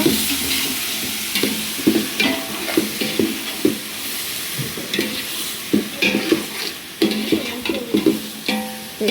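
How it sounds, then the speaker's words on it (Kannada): Tomatoes sizzle in a pan for a potato palya while a spatula stirs them in quick, rhythmic scrapes and knocks, the close scraping strokes rising over a steady frying hiss. "ಒಂದು 10 ಟೊಮೊಟೊ ಹಾಕಿದ್ದಾರೆ. ಇದು ಚೆನ್ನಾಗಿ ಫ್ರೈ ಆಗಬೇಕು ಫ್ರೆಂಡ್ಸ್"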